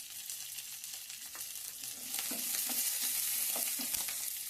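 Green chillies frying with urad dal and chana dal in hot oil for a coconut raw mango chutney, a steady close sizzle with occasional crackles and spatter, growing louder partway through, no voices.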